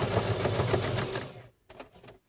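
A sewing machine stitching thread through a paper card in a fast, steady whirring buzz that stops abruptly, followed by a few faint clicks and handling sounds, close and without talk.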